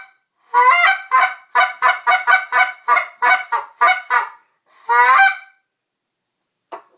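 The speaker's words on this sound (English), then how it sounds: "he's never heard a goose call before" A goose call is blown in a quick series of about a dozen sharp honks, then a longer drawn honk and a faint final note.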